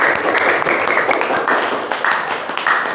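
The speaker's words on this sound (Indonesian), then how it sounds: "Kita beri tepuk tangan" Classroom applause for a student group's presentation, a steady patter of hands clapping that fills the room, with some voices mixed in.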